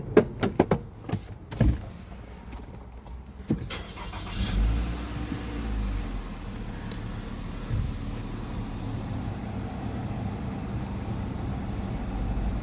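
A 2021-2024 Nissan Rogue 2.5L starts with a few sharp clicks and thumps, then settles into a steady, low idle that runs evenly and fairly close.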